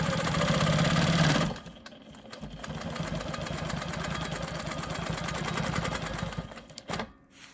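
Home sewing machine running steadily as it stitches quilting lines on an Ohio Star fabric block with a ruler foot, a louder burst at the start giving way to a continuous mechanical whir that stops near the end.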